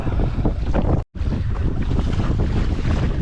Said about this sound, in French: l'ennemi du kayakiste, outre les vagues, c'est le vent. Quand il y a un très fort vent, c'est compliqué de revenir.